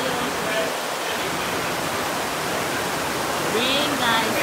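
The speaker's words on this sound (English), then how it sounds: "this rain is pouring, right?" Heavy rain pours steadily in a dense, even wash of hiss, with faint voices talking briefly toward the end.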